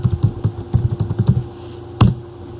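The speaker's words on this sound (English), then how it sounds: "I can go ahead into the command prompt here and type in point cloud attach" Keystrokes on a computer keyboard typing a command into the prompt of surveying/CAD software, a quick close burst of clicky taps for about a second and a half, then one sharper keypress like Enter, with no talking.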